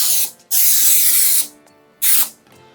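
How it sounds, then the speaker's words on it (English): Cooking spray hisses from a can into a nonstick gold pan in two bursts, a long one of about a second and a shorter one, each close and loud with quiet gaps between, no voices. "I'm still going to just spray some cooking spray"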